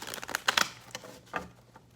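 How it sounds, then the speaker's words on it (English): Quick papery riffles and flutters of cards being shuffled, a few rapid bursts close up, fading out toward the end. "I gotta shuffle this deck."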